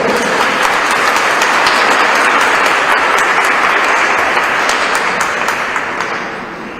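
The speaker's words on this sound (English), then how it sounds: "Can we give a round of applause?" A crowd applauds steadily with dense, continuous clapping that holds strong, then slowly fades near the end.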